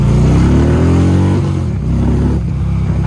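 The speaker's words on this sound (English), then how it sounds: "I know y'all hear burning rubber back there." A Harley motorcycle, a Copart salvage bike, revs hard while burning rubber, its engine note climbing and then dropping into a steady rumble, loud and close throughout.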